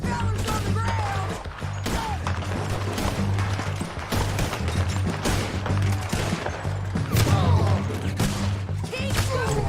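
Rapid gunfire in a Wild West shootout in Red Dead Redemption 2, with dense cracks and bangs going off almost continuously and loud throughout, over steady game music.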